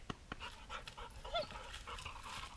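A dog pants quickly and steadily nearby while playing at a farm, giving rapid breathy huffs with a few faint whimpery tones over soft outdoor background noise.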